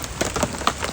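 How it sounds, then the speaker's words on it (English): Rain pattering outdoors in severe winter weather, scattered close drops ticking irregularly over a soft wash, with no talking. "So I'm out here in the rain, making sure everybody gets all they can eat."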